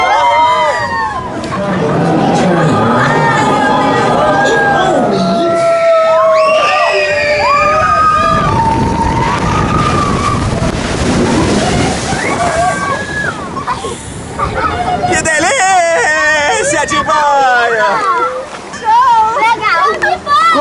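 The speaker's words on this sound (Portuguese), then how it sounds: "Acabamos de sair da Splash Mountain" The Splash Mountain log flume ride at Disney's Magic Kingdom in Orlando sloshes and splashes with water while a crowd of riders and children chatter and cheer loudly over it throughout.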